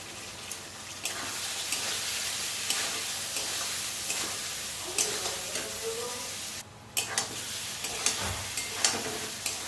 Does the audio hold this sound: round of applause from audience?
no